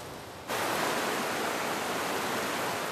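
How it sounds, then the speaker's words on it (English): Tugela Falls in the Drakensberg, the world's second highest waterfall with an 800-meter drop, roars as a steady, dense wash of falling water that swells in abruptly and holds constant. "The 800-meter drop of the Chugela Falls, the world's second highest waterfall, turns the stream into a veil of rainbows."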